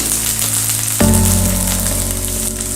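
Half a cup of peeled lima beans (avarekalu) dropped into hot oil in a frying pan, giving a loud, close, continuous sizzle that swells abruptly as the beans hit the oil and then hisses steadily.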